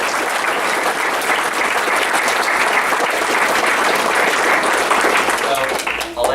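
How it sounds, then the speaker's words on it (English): Loud, sustained applause from an audience at a Town of Plattsburgh community meeting, dense clapping filling the room steadily for several seconds before tapering off at the end. "Can we give her a round of applause?"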